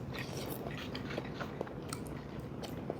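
Close, crisp crunching as someone bites and chews karaage fried chicken, with a steady run of small bites and chews over quiet room background.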